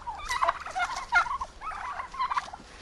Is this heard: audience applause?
no